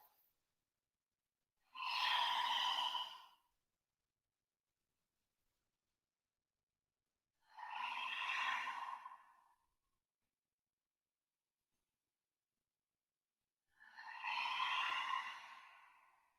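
Three slow, deep breaths during a hatha yoga breathing exercise, each a soft, airy rush lasting about two seconds, spaced evenly with silence between, close and quiet.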